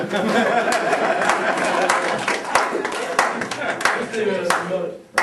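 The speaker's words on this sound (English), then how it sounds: "Yes, clap one person." Hand clapping in a room during a freethinker group presentation, loud and steady, with laughter and chatter around it.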